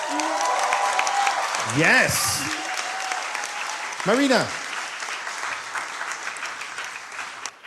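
An audience at a youth summit claps steadily throughout, with a speaker's voice heard briefly over the applause.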